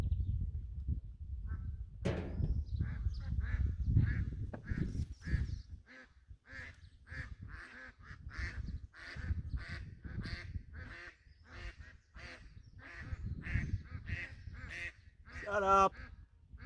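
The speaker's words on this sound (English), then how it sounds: "Ducks." Ducks quack and honk in a rapid, continuous chorus at moderate distance, with a person briefly speaking early on.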